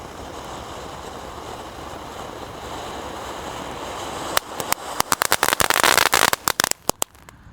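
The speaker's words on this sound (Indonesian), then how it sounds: "yang pertama kita nyalakan adalah konik fonten ukuran 3 inci" A 3-inch conical fountain firework burns with a steady rushing hiss, then breaks into a rapid burst of sharp crackles and pops near the end, loud and close outdoors.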